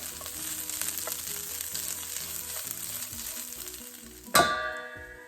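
Fried fish with onions and chilli sizzles steadily in a pan while being stirred into spinach pittu, ending with a sharp clank of the spoon against the pan; no talk.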